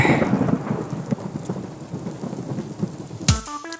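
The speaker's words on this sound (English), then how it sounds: "after you get struck by lightning, there's thunder" Thunder sound effect in a GTA Vice City radio advert for the Maibatsu Thunder car: a loud, continuous rain-laden rumble that swells, then a sharp close thunder crack near the end, with no one talking.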